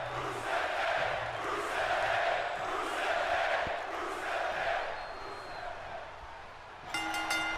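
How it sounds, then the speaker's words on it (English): Arena crowd in Turin, Italy chanting for Rusev during a Monday Night Raw broadcast in the WWE 2K26 video game, a steady rolling wash of massed voices that swells and dips for several seconds before a brief clean tone at the end. "you could hear this Turin, Italy crowd chanting for Rusev"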